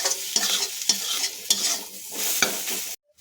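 A spatula stirs frying masala with ginger, garlic, dried chilli and garam masala in a pan, scraping in rhythmic strokes about every half second over a soft sizzle before cutting to silence.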